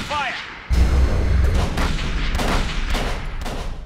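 Gunfire in the Call of Cthulhu video game: after a brief electronic tone, a dense burst of loud booming shots starts and rolls on in heavy repeated volleys, with shouted voices mixed in.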